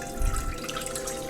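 Canned beef broth is poured into a cooking pot for au jus, a steady close splashing and gurgling stream that holds for about a second.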